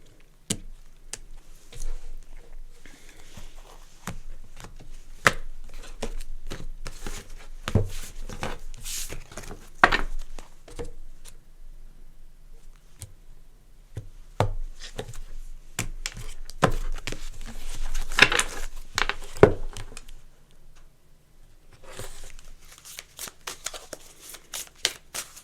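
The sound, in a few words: shuffling tarot cards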